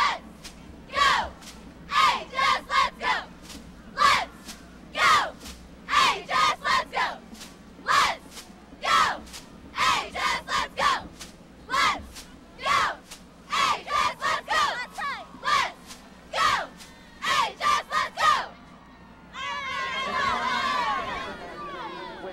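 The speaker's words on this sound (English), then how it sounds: "So go ahead and take us away with a cheer" Alleman Pioneer high school cheerleaders shout a rhythmic cheer in unison during the 2005 IHSA Class 5A boys football championship game, a steady run of loud clipped chanted phrases followed by a burst of crowd noise.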